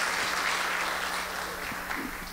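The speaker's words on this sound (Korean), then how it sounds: "훌륭한 발표해 주신 박준성 전무님께 다시 한번 박수 부탁드리겠습니다" Conference audience applauding a speaker after a presentation on Chinese unicorn companies, a steady wash of clapping throughout the short stretch that eases slightly toward the end.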